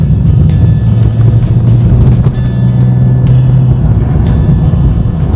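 A car driving around a roundabout, a steady engine drone and road rumble heard from inside the cabin, loud and constant with a low hum, no talk.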